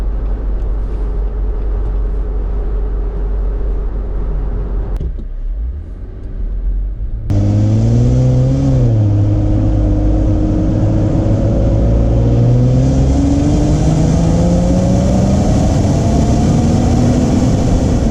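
A 2020 Jeep Wrangler Unlimited Rubicon with a K&N exhaust revs at roughly half throttle, the note dropping off briefly, then a loud droning rumble that climbs steadily in pitch through a long pull on the highway, with no talking.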